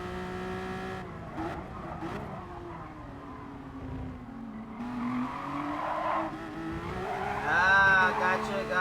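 A race car in a street car racing game accelerating and skidding onto grass, engine revving rising and falling with tire squeal, fairly faint beneath a background voice.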